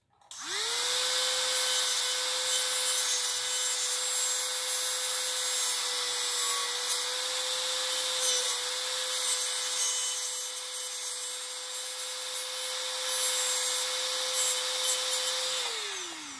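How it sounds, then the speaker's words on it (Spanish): Power tool with a cutting disc slicing through an old board, a loud, steady high-pitched whine with grinding, rasping texture held for about fifteen seconds before spinning down at the end. "Yo ahora agarré esta placa vieja para probar a ver cómo corta y la verdad me encanta"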